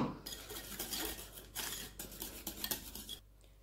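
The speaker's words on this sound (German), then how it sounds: "rühre das auch alles schön glatt, damit sich wirklich alles schön verbindet" A spoon or whisk clinks and scrapes against a bowl while stirring orange cheesecake cream until smooth, in quick, irregular strokes that are close and fairly quiet.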